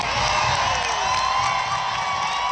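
A packed soccer stadium of more than 22,000 fans roars in a steady, loud wall of cheering and high whoops after a U.S. women's national team goal against Ireland, sustained throughout with no pauses.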